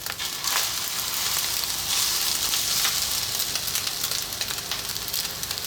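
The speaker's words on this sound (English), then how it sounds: "I'm going to drop in my 3 eggs now" Three lightly beaten eggs fry on high heat, giving a loud, steady sizzle with crackling spits throughout and no voices.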